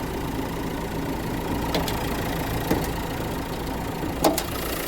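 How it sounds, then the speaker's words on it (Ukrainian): A 2017 Renault Megane IV 1.5 dCi K9K diesel engine idles steadily with an even, low rumble, close by, with a few faint clicks and knocks on top. "Ви чуєте, як він працює, працює рівнесенько, гарнесенько"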